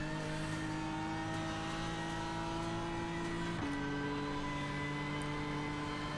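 Lamborghini GT3 race car engine in iRacing at the Nordschleife, a steady loud droning roar held at constant pitch, dropping in tone partway through with a brief shift, continuous and close with no talk.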